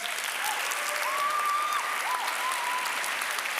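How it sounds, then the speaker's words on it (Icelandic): Church congregation at a confirmation mass applauding the pianist, an even, continuous wash of clapping heard at moderate distance throughout, with faint tonal sounds threaded over it. "Ef ekki, gefa hann gott klapp."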